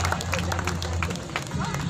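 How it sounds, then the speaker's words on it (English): A crowd applauds at the Goa Marathon prize ceremony, with a dense patter of clapping and cheering hubbub while an announcer speaks over a PA. "give them a round of applause"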